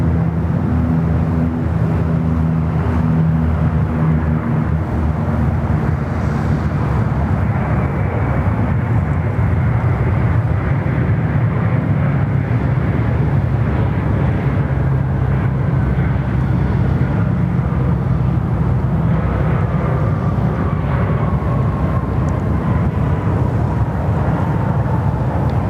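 An Airbus A320 jet rumbles on the runway at Sydney Airport, a steady, loud, low engine roar heard from nearby for the whole stretch, with a slowly shifting whine and no talk.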